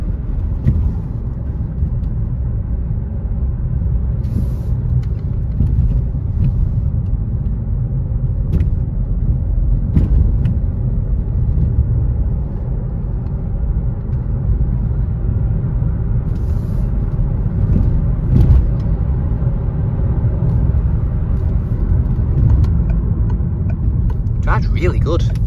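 Interior of a car with an automatic gearbox cruising at about 50 mph, a steady low road and engine rumble with tyre roar throughout and a few faint clicks near the end.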